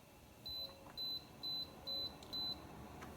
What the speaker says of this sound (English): So I'm going to set this timer